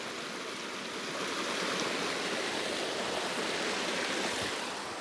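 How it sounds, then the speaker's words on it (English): Steady rushing water of a cascading stream at Springbrook, a constant broadband hiss with no voices or breaks. "with the water flowing"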